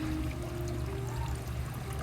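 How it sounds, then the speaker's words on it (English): A small garden bubbler fountain at an oceanside resort, water steadily trickling and splashing close by in a continuous gentle flow with a faint background hum. "I really love these bubblers"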